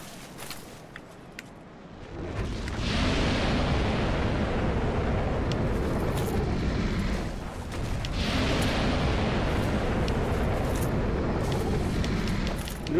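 Fire bombs bursting in Dark Souls, in a fight against a boss: two long, roaring bursts of flame, each swelling and lingering for several seconds, loud and close, with no talk over them.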